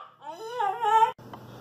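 A dog lets out a drawn-out, high whimper close by indoors, rising and wavering for about a second before breaking off into quiet room noise.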